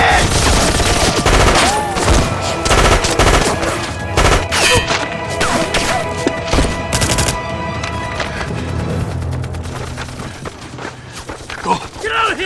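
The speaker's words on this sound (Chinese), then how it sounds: "向对手方向集中火力" Dense, continuous gunfire with rapid rifle and machine-gun bursts and heavy impacts fills a jungle ambush scene in a Korean War drama, US troops attacking a Chinese volunteer army's wounded soldiers' line; shouting voices break through, and the barrage thins slightly toward the end.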